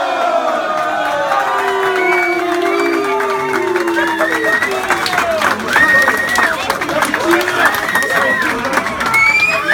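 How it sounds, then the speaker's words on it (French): Crowd applause and cheering for a nominee at a football club's awards ceremony for Stade Nantais, loud and sustained throughout, with voices shouting and whistling mixed into the clapping. "Je vous demande un tonnerre d'applaudissements pour Yann"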